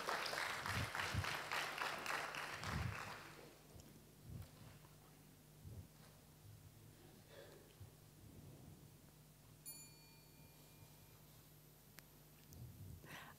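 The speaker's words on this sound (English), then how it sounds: "From the Faculty of Education, give a round of applause to Mrs. Nor Azwa Muhammad Ozir." Applause from an audience at a UKM Three Minute Thesis competition fills the opening seconds, then fades into a quiet room with faint shuffling and a few soft knocks.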